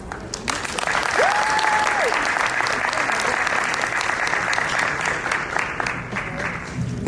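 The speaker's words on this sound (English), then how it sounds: "Another round of applause, please, for Gemma." Sustained audience applause at a startup pitch competition, a dense steady clatter of many hands filling the room for the whole stretch, with a brief whistle-like tone near the start.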